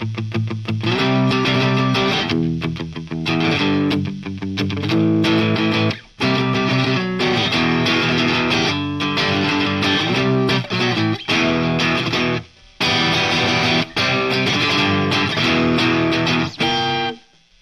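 Electric guitar through a heavy rocker distortion preset, loud and saturated, playing dense chugging chords in bursts with short stops between phrases, no talking.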